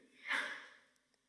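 A single short, breathy sneeze, fairly faint and quick, fading out within a second.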